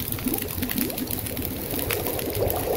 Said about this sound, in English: Now let's purify the water. Boil the 1 gallon of water.